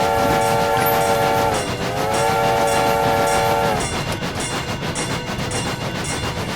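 Train rolling steadily in a rainy train-driving video game, its horn holding a long loud tone that bends midway and then stops, leaving the rumble and rhythmic clicking of wheels over rail joints.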